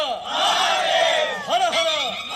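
An audience at a Marathi play about Chhatrapati Shivaji Maharaj chants "Har Har" in unison, a loud, rising crowd cry that swells and repeats in overlapping waves.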